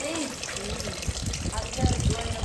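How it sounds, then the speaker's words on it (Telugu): Water runs down from the rocky hills at the 15th-century Chitradurga Fort in a steady, close gushing flow, with a person talking over it. "ఇక్కడ నుంచి వాటర్ నుంచి ఫ్లో అవుతుంది కొండల్లో నుంచి."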